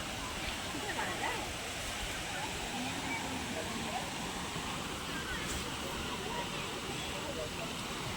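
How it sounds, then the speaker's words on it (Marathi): A large, dangerous monsoon waterfall below the first glass bridge in Konkan at Vaibhavwadi roars as a steady, dense broadband rush throughout, with no clear breaks. "खालती हा नापण्याचा मोठा धबधबा आहे, डेंजरस धबधबा आहे"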